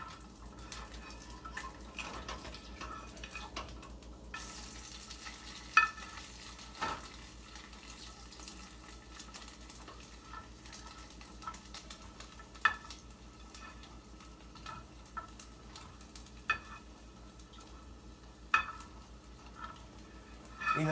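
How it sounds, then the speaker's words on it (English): Bacon laid in a pan, frying with a faint, continuous sizzle and scattered soft pops and clicks of cooking, quiet and close, with no talk. "so we're gonna lay the bacon down"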